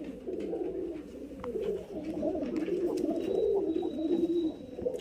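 Highflyer pigeons coo in low, continuous rolling murmurs, close by, with faint chirps and light rustles in the background and no talking.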